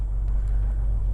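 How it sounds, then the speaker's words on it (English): A 1980 Ford F100 truck engine idles with an exhaust leak, giving a steady, loud, low rumble throughout with no speech over it. "And it does have an exhaust leak on it"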